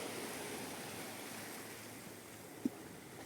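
Sea waves at high tide wash onto the beach at Morro de São Paulo, Bahia, Brazil, a soft, steady surf hiss heard faintly, with one brief click near the end.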